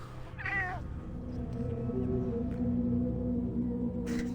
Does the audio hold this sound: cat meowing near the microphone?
yes